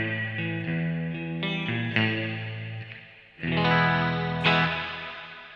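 Electric guitar chords ring out with a shimmering, wavering chorus and a wash of lush reverb, played alone with sustained, overlapping notes.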